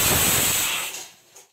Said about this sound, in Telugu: ఇప్పుడు కుక్కర్ని స్టవ్ మీద పెట్టుకొని స్టవ్ ఆన్ చేసుకొని 3 to 4 విజిల్స్ వచ్చేంత వరకు కుక్కర్ని పెట్టాలి